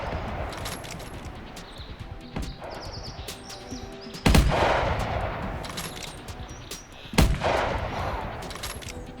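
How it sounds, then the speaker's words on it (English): Rifle shots fired at a whitetail buck in the hunting video game theHunter: two loud, sharp cracks several seconds apart, each trailing into an echoing decay, over quieter outdoor ambience with scattered small clicks. "we actually had to unload a new magazine into the gun and hope that this buck was still alive"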